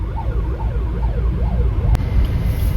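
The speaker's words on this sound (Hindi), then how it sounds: "एम्बुलेंस को हमेशा साइड देना चाहिए" An ambulance siren wails up and down repeatedly amid a heavy traffic jam on the Delhi–Chandigarh highway, rising over a constant low rumble of engines and road noise.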